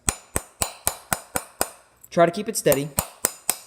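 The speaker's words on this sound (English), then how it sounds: "just start hitting the top of the screw or nail, whatever you got, with your hammer" A hammer taps steadily on the head of a nail set against a coin laid on a hard surface, sharp close metallic strikes about three per second, briefly interrupted by a person speaking before the tapping resumes.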